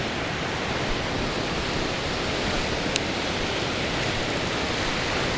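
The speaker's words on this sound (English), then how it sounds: "they're just disappearing and basically just reforming here in little waves" Small waves break in shallow water along a fishing beach as the tide comes in, a constant broadband wash of surf with no distinct individual breaks and no voices.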